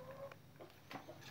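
Young F1 pikat chickens, about six months old, cluck at feeding time, a few faint, scattered clucks and chirps at a distance in a quiet farm setting, with no voices.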